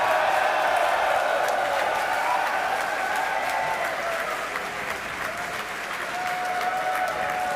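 A crowd of SpaceX colleagues gathered outside mission control in Hawthorne, California applauds steadily during a Starship test launch, a dense continuous wash of clapping from a distance.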